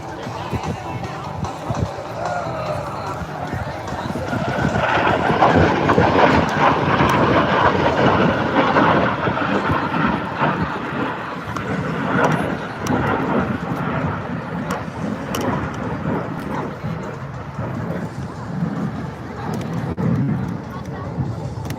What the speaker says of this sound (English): He's going to convert that altitude energy. He's pushing the nose over. The throttle's coming up. He's going to come fast